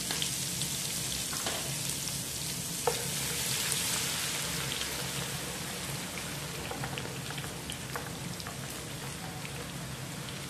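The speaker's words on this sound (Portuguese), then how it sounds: "o óleo já tá bem quente, tá? Eu vou vir com alho, 2 colheres de alho." Two spoonfuls of garlic sizzle in very hot oil for a farofa, a steady close crackling hiss running unbroken throughout with no talking.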